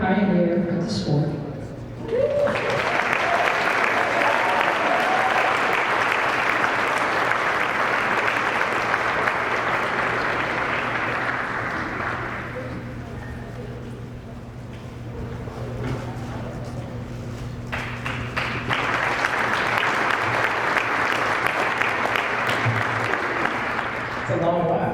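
Loud, sustained audience applause at a women's boxing Hall of Fame award ceremony, a dense crowd clapping for over twenty seconds with a brief dip midway before swelling again.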